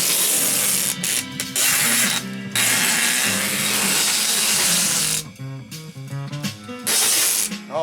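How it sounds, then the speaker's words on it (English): Strapping tape rips off the roll in long, loud hissing pulls while a Singer 201-2 sewing machine is wrapped for shipping, with short gaps and some rattling handling between the pulls. "let's take it down now with strapping tape."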